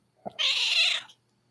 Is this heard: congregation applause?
no